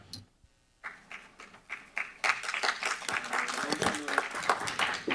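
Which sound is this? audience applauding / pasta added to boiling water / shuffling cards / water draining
audience applauding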